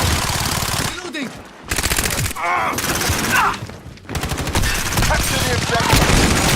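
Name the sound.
gunfire in a video game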